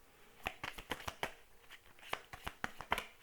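Oracle cards being shuffled by hand, a quick run of soft papery riffles and slaps repeating unevenly, close and quiet with no talking.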